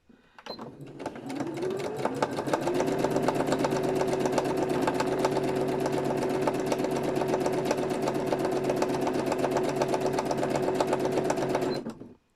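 A sewing machine stitches a double outline on a gardening journal cover at speed, its motor spinning up quickly into a loud, steady, continuous whir for about ten seconds before stopping abruptly.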